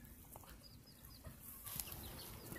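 Old English Game chickens in a farmyard give soft, scattered clucks and brief wing flutters, fairly faint and distant, with a slightly busier burst of activity in the second half.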